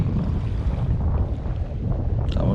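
Strong wind buffets an inflatable fishing boat out at sea, a steady loud roar of gusts and microphone rumble with no break across the clip.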